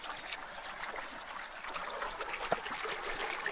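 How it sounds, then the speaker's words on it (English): Rain-swollen stream of water flowing steadily through the woods, a continuous close trickling and rushing wash with small splashes, no voices. "crazy water running"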